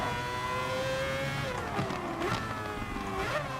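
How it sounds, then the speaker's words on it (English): A race car engine in the racing video game GT Sport revs steadily with shifting pitch, a loud continuous mechanical whine with slight rises and dips, no voices. "This is one of the best sounding cars in the game"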